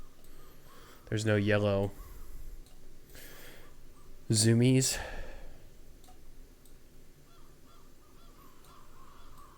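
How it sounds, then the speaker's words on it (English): Two loud, harsh crow caws ring out in the horror point-and-click game Wardwell House, separated by a few seconds over a low ambient hum, with faint talk around them. "Just crows."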